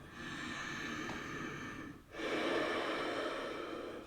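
Deep, steady breathing during a yoga practice, a long drawn inhale, a brief pause, then another long breath, close and quiet, with no talk.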